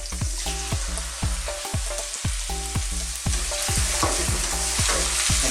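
Shrimp sizzle steadily in a hot pan while a utensil stirs and scrapes in repeated rhythmic strokes, loud and close, with no talking.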